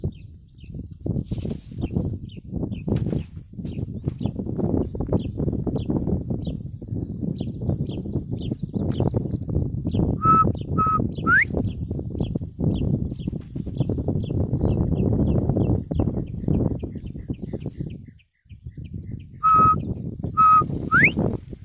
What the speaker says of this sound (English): Texas bobwhite quail, rare bird.